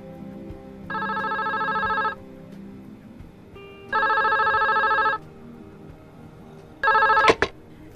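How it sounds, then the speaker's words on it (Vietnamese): A telephone in a hotel room rings in three separate electronic trills, each lasting about a second, fairly loud and clear against a quiet background, with no talking. "Harvey gọi điện thoại cho Lian và Locke tại khách sạn của họ"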